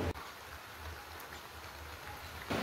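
Steady rain falls outdoors in a continuous hiss and patter, fairly quiet, with a brief bump near the start and a louder swell at the end, and no voices.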